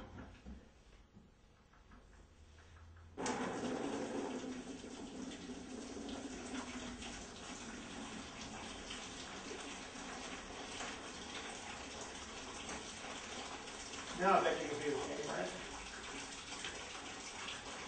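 Water is poured into a bucket from a water-heater setup, a soft, steady pouring rush that starts abruptly after a few quiet seconds and runs on with a brief splashy swell near the end; no one speaks.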